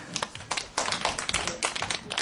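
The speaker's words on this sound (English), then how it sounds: "Can we give Mr. Tully a round of applause?" A short round of applause for Mr. Tully from a small group, close and fairly loud, with uneven bursts of clapping over about two seconds and no voices.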